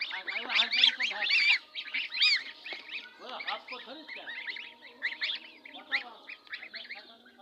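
Domestic geese honking while being fed cut grass, a busy flock of overlapping nasal honks and calls, close and loud in irregular bursts.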